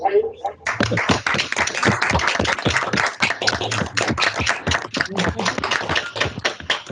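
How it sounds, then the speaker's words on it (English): Participants in an online meeting clap through their own microphones in a short round of applause: many dense, overlapping claps that start suddenly and go on steadily for several seconds. "give you a brief round of applause"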